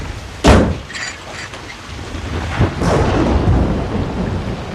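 Thunderstorm with sharp, loud thunder cracks and rolling rumbles over steady heavy rainfall, two or three strikes in a few seconds, no voices.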